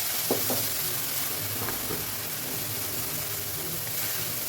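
About ten small onions sauté in oil for a chicken fry, giving a dense, continuous sizzle with faint stirring touches beneath.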